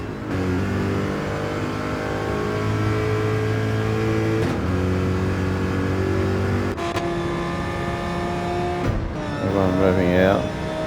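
GR3 race cars rev hard in Gran Turismo 7 at Bathurst, a dense high-pitched engine drone with brief shift breaks, layered under an ongoing commentary voice.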